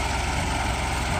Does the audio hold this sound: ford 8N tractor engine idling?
yes